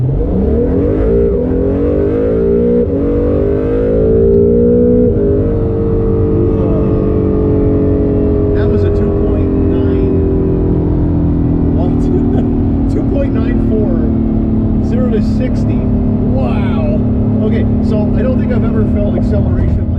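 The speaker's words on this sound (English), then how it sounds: "I want to do a quick 0 to 60 test" An Acura NSX on all-season tires accelerates hard in a 0 to 60 test, the engine note rising steadily in pitch and loudness through upshifts, heard from inside the car with loud road and engine roar.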